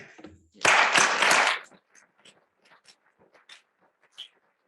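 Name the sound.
audience applause for a speaker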